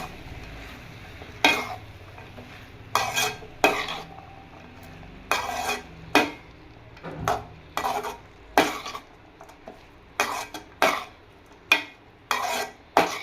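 A utensil scrapes and knocks against a pan while stirring pumpkin stir-fry (poriyal), in a series of irregular strokes, about a dozen, with a faint sizzle in the background.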